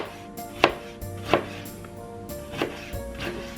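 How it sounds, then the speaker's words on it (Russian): Four sharp knife chops on a cutting board, dicing into small fine cubes, spaced unevenly about a second apart, close and crisp with no talking. "Затем всю эту конструкцию разворачиваем и нарезаем мелким кубиком."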